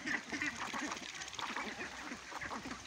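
Ducks on a duck farm quack in a busy, overlapping chorus of rapid nasal calls. The sound is fairly faint and continuous throughout.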